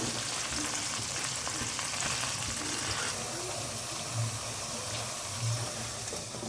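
Butter melting in a pan for ghee gives a steady close crackle and hiss of frying, with a few soft bubbling pops, continuous for several seconds with no talk.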